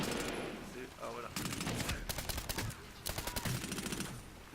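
Rapid gunfire bursts from the shooter game Medal of Honor Warfighter, with a Remington 870 pump-action shotgun in play, crackling in several dense volleys over steady game background noise.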